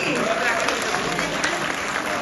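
An audience claps at an Odia drama stage show in Canada, giving a dense, even burst of applause for a couple of seconds while a voice speaks over it.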